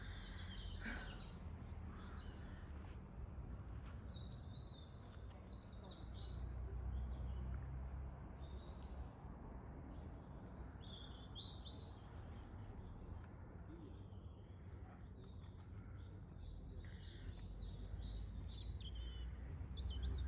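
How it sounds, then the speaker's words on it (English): Birds chirp and call intermittently over a steady outdoor hum, the song scattered and moderately distant throughout. "how peaceful it sounds with all the birds"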